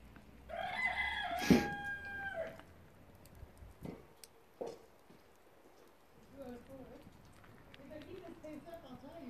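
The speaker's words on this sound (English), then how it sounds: "and the chickens are back too. Hello, chickens." Chickens at a farm in a Viking valley: a rooster crows loudly once nearby, then hens cluck softly and repeatedly, with a few knocks and faint background noise.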